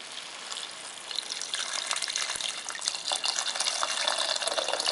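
Plain water pours into a soup pot for Korean radish soup, a steady splashing gush that grows louder and brighter as it fills, with no talking over it.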